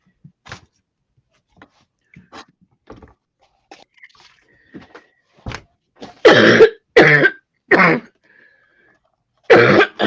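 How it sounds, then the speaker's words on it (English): Several harsh, loud coughs in quick bursts close to the mic, preceded by quieter throat-clearing and small mouth sounds. "my cough is rather bad at the moment"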